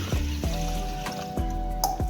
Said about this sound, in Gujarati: અને પાણી નાખી આપણે 2 ગ્લાસ નાખી દઈએ